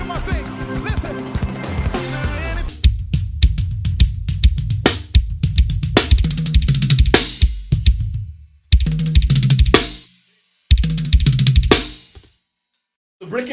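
A drum kit plays a steady pattern of hand strikes and kick drum beats, close and loud, with a few brief pauses between phrases.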